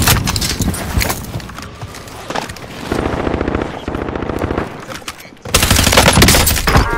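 Loud, dense bursts of automatic gunfire in a video game, with rapid rattling volleys that keep coming and a heavy sustained barrage near the end, all close and intense.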